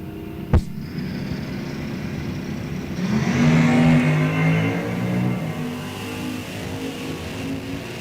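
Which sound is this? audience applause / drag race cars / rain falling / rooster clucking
drag race cars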